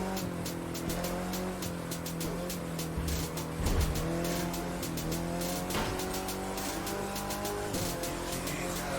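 A car is driven in The Crew 2 racing game on PC with a PXN V9 wheel and shifter, its engine droning steadily and changing pitch through gear shifts, with a brief tire squeal partway through.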